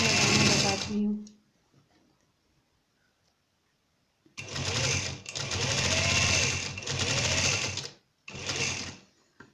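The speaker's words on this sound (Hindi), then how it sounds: "फिर मैं आपको इसके स्टिच लगाना बताती हूँ।" Electric sewing machine stitching trouser fabric: a short run, a pause, then several longer loud bursts of rapid rattling stitching broken by brief stops, close up.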